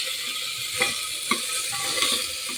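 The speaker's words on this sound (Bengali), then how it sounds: "এবার একটু নেড়ে নেবো" Carrots, beans, chicken and tomato are stirred in a frying pan, a steady hiss of sizzling with a few soft scrapes of the spoon against the pan, close and alone.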